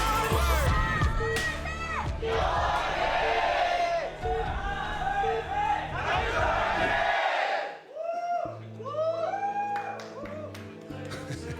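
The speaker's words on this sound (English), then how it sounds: "So much cheering here in the studio." A studio crowd at a StarCraft tournament cheers loudly and continuously, with roaring voices and excited shouts swelling and dipping, briefly quieting before rising again under lively commentary.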